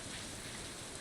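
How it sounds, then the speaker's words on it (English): Steady rain falls in the farming game Stardew Valley, a soft, even hiss of drops on a rainy and thunderous day that holds without pause and plays alone, with no talk over it. "Oh, it's more than a rainy day."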